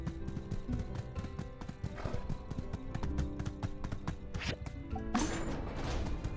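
Horse hooves clip-clop in a quick, steady rhythm as a horse is ridden in the video game My Time at Sandrock, fairly faint, with a sharp crash or rustle near the end.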